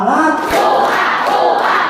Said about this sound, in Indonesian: Dua kali tepuk semangat.